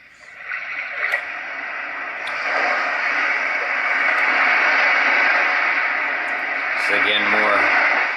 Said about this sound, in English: The water is just kind of lapping up against the rocks or something.